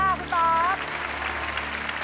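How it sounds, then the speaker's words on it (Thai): Studio audience applause on a Thai game show, a steady wash of clapping that runs through the whole moment, with a host's voice and tonal music stings over it near the start. "ขอเสียงปรบมือดังๆ"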